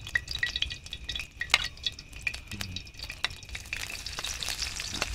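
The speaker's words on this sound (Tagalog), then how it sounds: "Lagyan natin ang sibuyas, bawang muna." Chopped onion and garlic sizzle in a hot pan at an outdoor cooking setup. A steady, close frying hiss carries light stirring clinks, with no talking.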